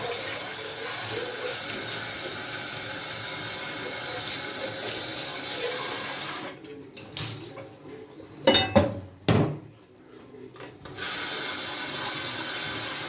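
Running tap water splashes steadily into a kitchen sink as an old cooking pot is rinsed, broken midway by a few seconds of quieter scrubbing and knocking before the flow resumes.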